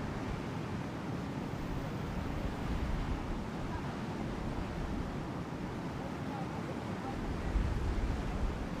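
Strong gusting wind, estimated near force 9 to 10, roars with breaking surf at a professional wave windsurfing contest on Tiree. The rumble is steady and broadband, with a brief louder gust toward the end.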